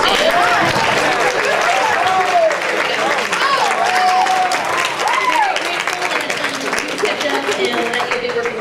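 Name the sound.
audience applause at a school band awards ceremony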